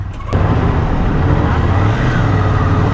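A Ducati Scrambler motorcycle pulls away hard in first gear, its engine bursting in after a brief quiet moment and then holding a loud, steady, close roar for a few seconds, with no voices.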